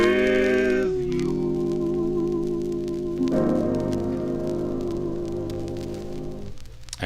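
A 1951 record on the Prestige label plays, a sustained vocal-group harmony with held chords that shift partway through over a soft crackle of vinyl surface noise, steady and fairly loud.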